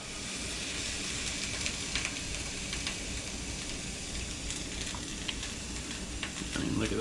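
Mushrooms sautéing in a cast iron pan beside a grilled cheese with sausage, a steady close sizzle with scattered crackles and pops, alone with no talk.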